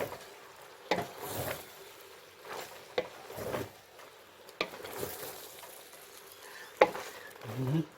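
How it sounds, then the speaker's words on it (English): A flat wooden spoon stirs a pork shoulder stir fry in a pot on the stove. Soft, intermittent scraping strokes sit over a faint background sizzle. "Try to stir the bottom. Make sure it doesn't burn. Use this wooden spoon, flat one."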